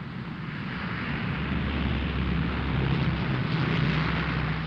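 A C-1 medium jet transport aircraft of the Japan Self-Defense Forces flies over a training ground in Nara during a parachute drop exercise, giving a steady, loud, broad engine roar that holds throughout with no voices.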